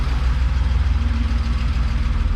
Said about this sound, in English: Idling a little high, but that's alright